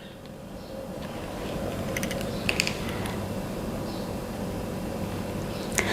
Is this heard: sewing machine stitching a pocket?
yes